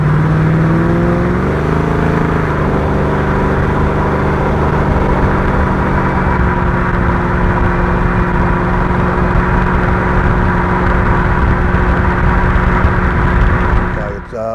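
Loud, steady idle of a small block 383 V8 in a street-driven ute with a TCI turbo 350 high-stall transmission, a deep rumble with a slight rev change near the start, running alone and close for the whole stretch.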